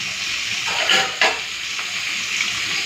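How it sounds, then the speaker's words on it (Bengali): Fish heads frying in oil in a pan, a steady close crackling sizzle with a couple of louder bursts of spatter and stirring. "চলো মাছের মাথাটা ভালো করে আগে ভেজে নিই।"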